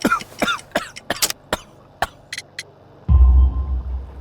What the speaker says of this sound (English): You have a severe cough.